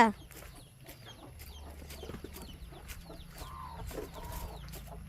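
Chickens cluck softly and repeatedly nearby, short scattered calls with a longer drawn-out note near the end, over a quiet background hum.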